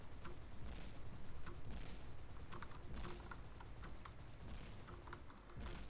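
Rapid spammed bomb explosions in the underwater shooter Paranautical Activity, a steady clattering string of small blasts, fairly faint and continuous.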